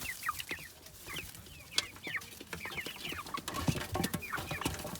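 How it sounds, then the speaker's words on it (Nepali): Young chickens kept for sale cluck and chatter in a busy flock while being given feed grain, their calls overlapping at close range with occasional louder squawks. "यिनलाई चाहिँ दानाहरू दिनको लागि यहाँ मैले ढोका"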